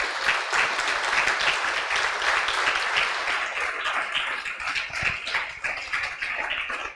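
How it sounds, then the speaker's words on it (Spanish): A church congregation applauds during a Spanish-language sermon, a dense, steady wash of many clapping hands that carries on for several seconds at moderate loudness and tapers slightly near the end. "Dale un aplauso al Señor."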